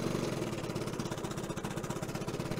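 A 1970 Evinrude 25 HP outboard motor idling out of gear, a fast, rough, chugging putter held at a steady level close by with no talking.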